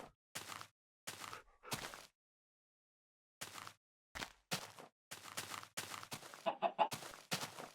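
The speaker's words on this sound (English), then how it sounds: "That's a chicken." Chickens cluck in the Far Lands or Bust game, a run of short, sharp bursts separated by pauses, with quick rapid clucks bunching together toward the end, fairly close and clear with no talk.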